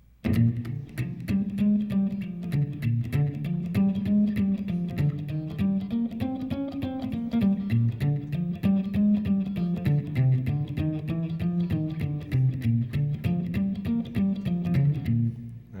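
A fast, steady jump blues bass line plucked on electric guitar, walking up and down in a bouncing repeated pattern, loud and close throughout.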